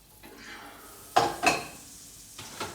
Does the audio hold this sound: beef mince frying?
yes